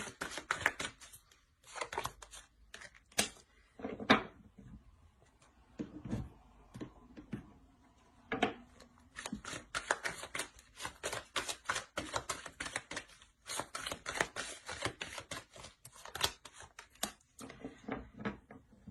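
Tarot cards handled, drawn and laid down on a table during a reading. Close, irregular taps, flicks and slides come in clusters across the whole stretch, with no talking.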